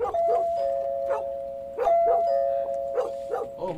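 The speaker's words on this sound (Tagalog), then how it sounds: "mag-doorbell na tayo" An electronic doorbell chimes twice with sustained tones, while dogs bark intermittently in the background.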